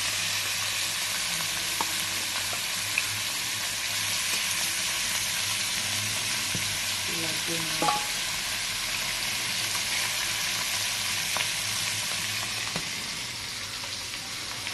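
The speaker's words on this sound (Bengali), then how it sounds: "মাছের তেলে মাছ ভাজা হচ্ছে" Rupchanda (pomfret) fish fries in its own fish oil with a steady, faint, even sizzle and occasional light clinks of stirring, and no talking.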